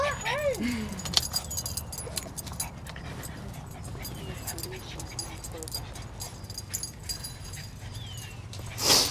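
Stray dogs whimpering and yipping close by with some panting, mixed with outdoor desert noise and a faint jingle of keys.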